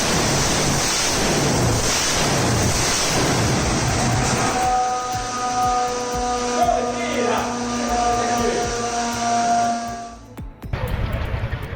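A large aircraft radial engine roars with broad rumbling noise, then settles into a steady, resonant hum with sustained tones before cutting off and a rush of noise returns.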